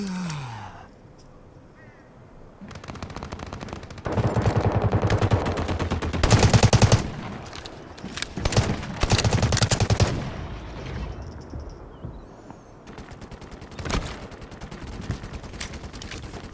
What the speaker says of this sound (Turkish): Bizi vuruyorlar.